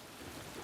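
Heavy rain pouring during a fierce storm on Australia's east coast, a steady dense wash of hiss, fairly faint and continuous with no voices.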